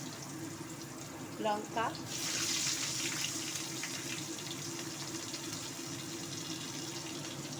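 Black cumin and onion hit hot oil for a tempering. A brief voice comes first, then a bright, crackling hiss swells up and holds steady at close range.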